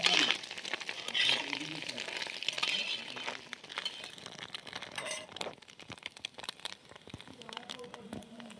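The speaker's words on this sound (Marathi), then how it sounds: "अंडी चांगली तळून घेतली आता कांदा त्यात टाकून घेणार" Fried country-chicken eggs in a pan take chopped onion, with a crackling sizzle, stirring scrapes and light clinks of a utensil, louder at first and then settling lower.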